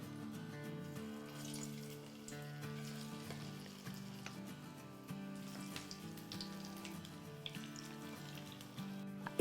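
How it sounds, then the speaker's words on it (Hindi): Moong dal pakoras dropped into hot oil, a soft steady sizzle of frying under a faint sustained background tone, no talk. "चले अब हमारा ऑयल जो है बड़ा अच्छा सा गर्म हो गया और अब हम डालते हैं अपने पकौड़े"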